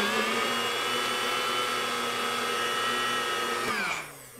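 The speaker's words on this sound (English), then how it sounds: "so you place it in a blender" A countertop blender whirs loudly and steadily as it blends a glaze, then cuts off near the end, leaving a quieter tail.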